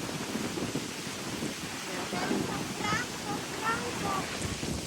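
Strong wind buffeting the microphone at a beach campsite at Calilayan Cove during Typhoon Inday, a constant low roar with surf in the background, while people talk over it.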